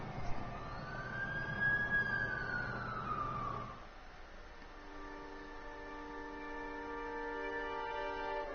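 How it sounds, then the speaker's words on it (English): An ambulance siren in the video game Amazing Spider-Man 2 wails in a rising and falling sweep, then shifts to a steady tonal pattern as the vehicle sits close, loud over a low engine rumble. "That's the ambulance I called."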